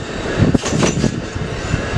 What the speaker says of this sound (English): an Amtrak arrived at the station